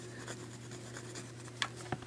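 A graphite pencil colors in gray on paper while drawing a Pokémon character, giving a soft, steady scratchy rub up close, with a couple of slightly sharper strokes near the end.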